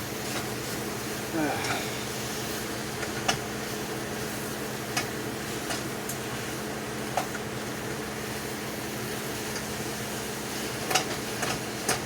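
Ground sausage fries in a pan with a steady, soft sizzle throughout, with occasional light clicks and taps of a utensil against the pan.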